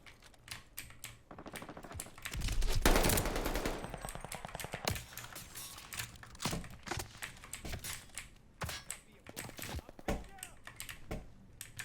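Rapid gunfire in Call of Duty Vanguard, dense automatic bursts building to a loud sustained volley around the middle, then scattered sharp shots and impacts continuing under occasional game sounds.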